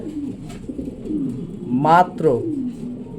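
A pair of white Mondain pigeons coo close by, with soft, repeated throaty calls rising and falling and a louder burst of cooing near the end.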